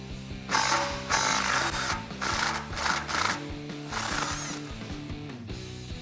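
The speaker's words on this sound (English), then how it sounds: "I have my electric impact gun here, and I have a 15 millimeter deep well socket on it" An electric impact wrench with a 15 mm deep well socket works on bolts while a cat-back exhaust is fitted to a Jeep Wrangler JL, giving several short rattling bursts over steady background music.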